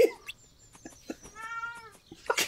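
A cat meows in short, close calls with a drawn-out tonal cry in the middle, mixed with scattered clicks and game sounds from Kingdom Hearts Re:Chain of Memories.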